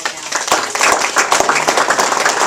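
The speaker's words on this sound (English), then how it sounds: "if you can help me in a round of applause to them right" Steady, dense clapping from an audience at a locker room dedication honoring donors, close and loud with many crisp hand claps blending into continuous applause.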